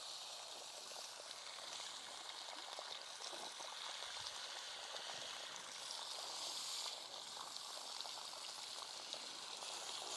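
Water gently rinses a Ford F-150's air filter under a low-pressure, high-volume flow, producing a faint, continuous trickling and splashing without pause.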